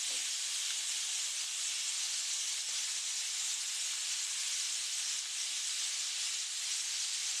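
Salmon and shrimp sizzling in butter in a pan give a steady, even hiss that holds at a constant level with no breaks and no voices over it.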